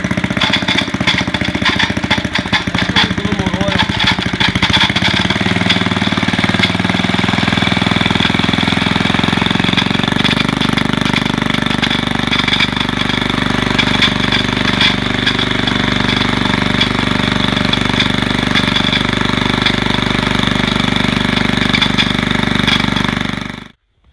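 An old Simplicity walk-behind tractor's small engine runs steadily after carburetor adjustment, a loud, close, unbroken mechanical drone that cuts off abruptly at the very end.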